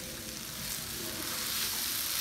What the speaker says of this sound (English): I just stir fry it, but you kind of flatten it out to get even cooking.